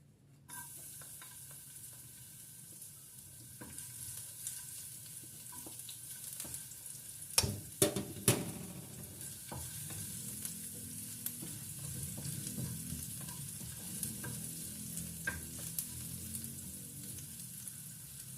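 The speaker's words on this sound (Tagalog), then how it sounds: "Gigisa ako." Shrimp and aromatics sautéing in a frying pan with a little Sprite, a steady sizzle with scattered stirring scrapes and a few sharper clatters near the middle, close and continuous with no talking.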